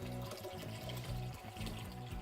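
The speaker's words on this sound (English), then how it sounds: "We're going to dump some water in there, raising the water level, which will trigger those probes" Water poured into a container over water-detection sensor probes, a steady continuous pouring wash that runs alone for about two seconds.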